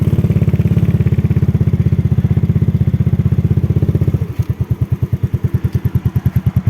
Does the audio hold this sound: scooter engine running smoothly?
yes